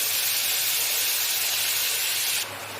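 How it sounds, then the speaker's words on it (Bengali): A paste of onion, garlic and green chilli drops into a hot oiled pan for a prawn and taro curry, setting off a loud, steady close sizzle that dips slightly near the end. "পেঁয়াজ, রসুন আর কাঁচা লঙ্কা বাটা যে একটা পেস্ট বানিয়েছি সেটা দিয়ে দিলাম"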